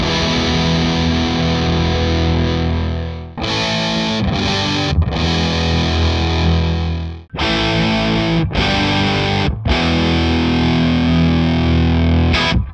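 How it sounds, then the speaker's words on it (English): Distorted electric guitar chords through Celestion speakers driven by a Gibson Super Goldtone GA-30RV amp: loud, thick strummed chords that ring in several long passages, separated by brief cutoffs and short choppy stabs, with no talking. "Now we will cycle through each speaker quickly, just playing some chords so you can hear them and compare them."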